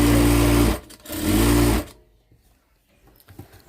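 A sewing machine stitches churidar pants in two loud, close bursts of fast, steady whirring with a short pause between them, then falls quiet apart from faint handling noises.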